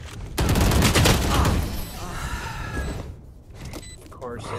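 A burst of rapid gunfire from the game VALORANT, loud at first and then trailing off, followed by sparser game sound effects and a short gap of quiet.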